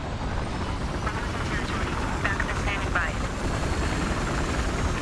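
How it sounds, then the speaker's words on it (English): A video game helicopter engine starts up and settles into a steady, loud rotor whine and thrum that runs throughout without a break. "Trying to get the helicopter to turn over."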